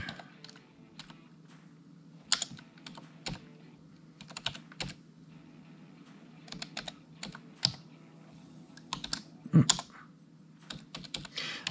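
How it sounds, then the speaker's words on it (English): Keys on a computer keyboard clatter in irregular bursts of quick taps as an address is typed in, with short pauses between the runs of keystrokes and the occasional louder key press. "Then you're going to type in the exact name."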